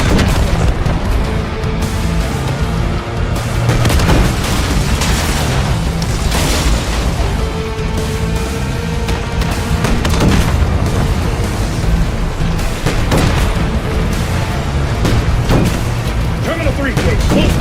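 Tank fire in the Call of Duty Black Ops 6 campaign, with a T-72 near an airport tarmac, brings heavy booming explosions and rumbling blasts that run through the whole stretch under loud battle noise and voices.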